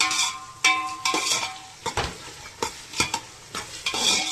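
Six or seven green chillies fry in a pan for ghee rice with chicken gravy, a crackling sizzle broken by repeated scrapes and clinks of a spoon stirring against the metal, close by and without talk.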